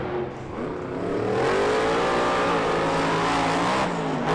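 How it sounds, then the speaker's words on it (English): The Megalodon Monster Jam truck's engine runs rough at an arena show in San Francisco, a loud, sustained, wavering roar with shifting pitch that fills the whole stretch without speech. "That motor does not sound right."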